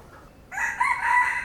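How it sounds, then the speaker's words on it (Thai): A red junglefowl rooster crows once on a mound at a forest temple site on a river island, a clear drawn-out call rising over quiet outdoor background. "เสียงที่เราได้ยินนี้เป็นเสียงไก่ป่านะ"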